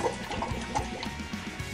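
Bubbles blown through a straw into water during a singing exercise, a soft, irregular bubbling and gurgling at close range with no talking.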